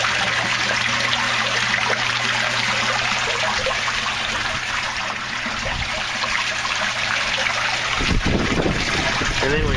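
Water trickles and splashes steadily from the overflows and an auto trapper into an aquaponics fish tank, a continuous close splashing wash with a pump hum beneath and a brief louder gush near the end.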